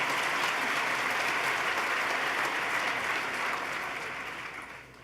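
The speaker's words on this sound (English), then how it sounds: "Let's give her another round of applause," Audience applause at a 2014 State of the State address, a steady loud wash of clapping from a large crowd that tapers off toward the end.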